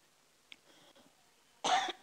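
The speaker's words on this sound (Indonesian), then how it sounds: "Ini malah makin bikin batuk." One loud, raspy cough from a speaker at a church service comes near the end, after a quiet stretch with faint room sounds.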